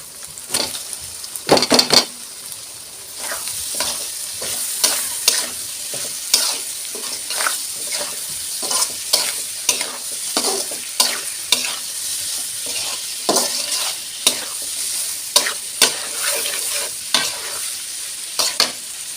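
Winter vegetables being stir-fried in a pan for Kokola noodles, with a steady close sizzle and frequent sharp spatula scrapes and clatters in an irregular rhythm throughout, and no talking.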